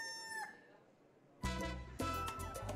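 A rooster crowing sound effect bursts in loud and close after a quiet start, with a second crow following right after.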